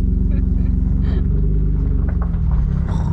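A BMW E36 325i with its catalytic converter removed and an M3 intake idles close by with a steady, loud engine rumble and deep throaty exhaust drone, without revving, while voices talk faintly over it.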